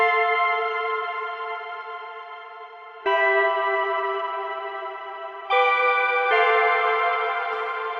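Sustained synth-like music chords ring out through a reverb plugin at its default setting, with a washy, echoing tail, shifting to new chords a few times.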